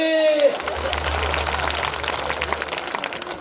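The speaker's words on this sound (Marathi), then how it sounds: "टाळी." Scattered clapping from a kirtan audience after a sung line, soft and diffuse, with a low steady hum underneath.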